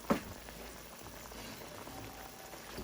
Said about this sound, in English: Just bring it up to a boil again and continue boiling until the timer goes off